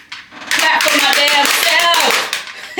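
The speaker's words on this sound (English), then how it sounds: "Let me clap for myself again." A single person claps their hands for themselves in a few quick bursts, mixed with their own voice.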